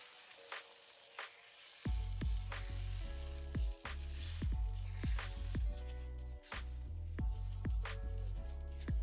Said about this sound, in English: Now we're gonna add our egg whites to our fried rice mixture, turn down the heat a little bit, and we're gonna scramble this up